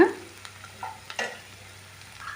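A spoon scrapes and stirs flattened rice (avalakki) with turmeric in a pan on the stove, giving a few soft, irregular scraping strokes over a faint low sizzle, close and fairly quiet, with no one talking.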